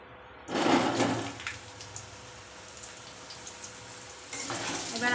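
Potatoes frying in a kadai with cardamom, cinnamon, cumin, bay leaf and dried chilli, a loud steady hiss that rises sharply at first, settles into a continuous sizzle, then swells again near the end.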